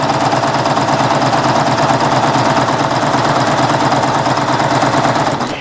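A Baby Lock serger stitches steadily over a cord, giving a continuous fast mechanical whir with rapid rhythmic clatter, loud and close, running without pause.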